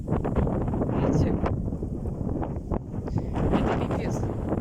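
Very strong gusting wind across an open field, around 20 metres per second, roaring steadily against the microphone with buffeting surges and faint whistling, a voice speaking over it.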